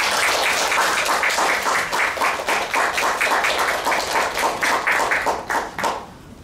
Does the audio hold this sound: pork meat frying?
no